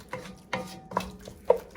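A spoon clinks and scrapes in a pot of lamb shank curry being stirred with yogurt, about five quick, distinct taps spaced through the moment, fairly close and moderately quiet.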